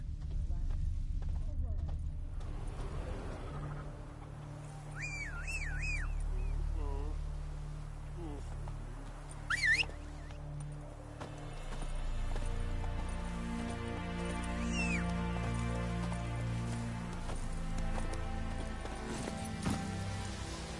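Hooves of Roach, a horse in The Witcher 3, clip-clopping in a steady walking rhythm beneath game music and ambience, with voices speaking over parts of it.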